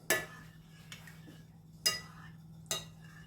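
Faint spoon clinks against a bowl while mixing a stuffed potato mixture with salt and water, three or four sharp taps spread apart over a low hum.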